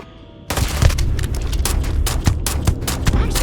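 Rifle gunfire in Starfield erupts suddenly after a quiet moment, with dense, loud shots and booming impacts firing irregularly and continuously, several heavier blasts standing out.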